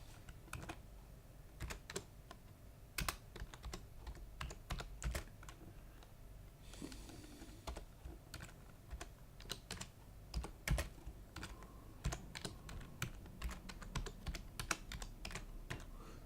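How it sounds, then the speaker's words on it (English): Fingers type a name on a computer keyboard in a steady run of close, crisp key clicks with irregular rhythm and occasional louder strokes, no voices, over a low background hum. "I'm going to type my name now"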